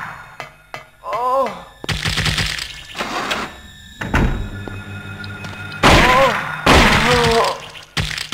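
Gunfire in the video game Silent Hill comes as a series of loud, sharp bangs in uneven bursts separated by brief pauses, with a voice speaking now and then between shots.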